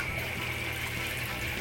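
A household water filter switched on with water running steadily, a continuous even rushing flow with a faint high whine, close and alone without talk.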